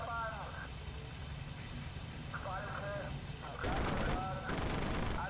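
Fighter-plane machine gun bursts in the IL-2 Cliffs of Dover flight game crackle in short rapid volleys over a droning engine, with brief tonal cockpit sounds in between.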